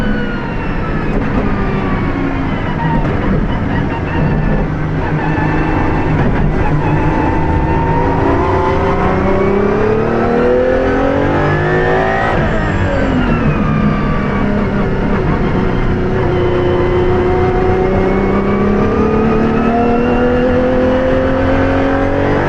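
A VW Polo Intensa Emotion with straight-cut gears revs hard and loud throughout, its engine note climbing and falling in repeated sweeps with a sharp gear whine layered over the roar, steady and close with no talk.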